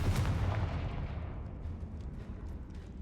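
A Confringo spell blast in Hogwarts Legacy, set inside a tomb, lands as a heavy booming explosion that hits hard at the start and then rumbles and decays over a few seconds, with no speech over it.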